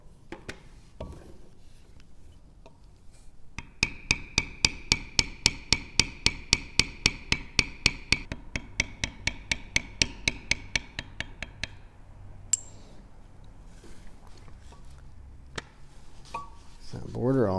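Steady rapid series of sharp mallet strikes on a steel bevel tool working a tooled leather wallet, evenly paced taps close up that pause and then resume with a few scattered hits.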